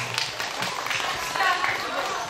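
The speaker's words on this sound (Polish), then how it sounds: "Gorące brawa proszę Państwa na Patrycji" Outdoor festival crowd applauding at a memorial fete, a dense steady patter of clapping mixed with crowd noise and voices throughout.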